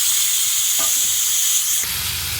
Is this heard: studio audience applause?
no